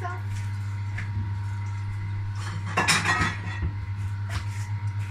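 A plate is taken out in a home kitchen while a cooking extractor hums steadily underneath, with a few light clinks of dishware and a short rattling clatter near the middle.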